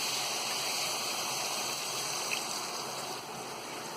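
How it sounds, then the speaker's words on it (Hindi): Half a cup of water pours into spiced chicken masala in a cooking pot, a steady close splashing, trickling wash that runs the whole time with no talk. "अब डाल देंगे हम इसमें ये आधा कप पानी"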